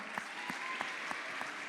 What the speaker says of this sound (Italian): Roberto Tangiano, un applauso